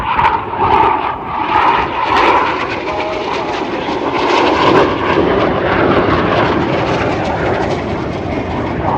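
Red Arrows jets roar past at an air show display, flying inverted in the crossbow manoeuvre as they leave the display area. A loud, continuous broadband engine rush swells and holds throughout, with no talk.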